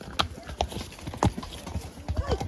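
Horse hooves clip-clop unevenly on a hard forest trail in Gifford Pinchot National Forest, a few distinct knocks against quiet outdoor background, with voices murmuring faintly nearby.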